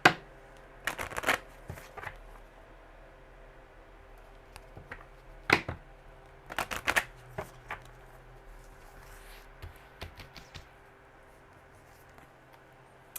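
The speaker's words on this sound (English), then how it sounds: "one more solid shuffle" Cards being shuffled in several quick riffling bursts with pauses between, close and fairly quiet against a faint background hum.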